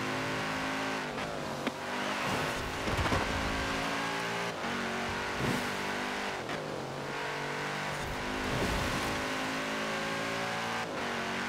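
Car engine in Forza Horizon 4 revving hard through repeated upshifts, the pitch climbing and dropping with each gear change, loud and close with no talk.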